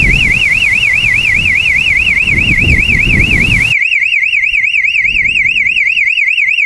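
A loud Boundary home security alarm wails continuously after a break-in, in a rapid warbling tone, steady and piercing throughout, with rumbling noise underneath in the first half.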